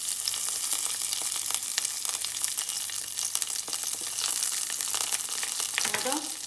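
Curry leaves and cumin seeds splutter and crackle in hot oil in a pan, a steady close sizzle with scattered sharp pops throughout, ending with a brief stir near the end.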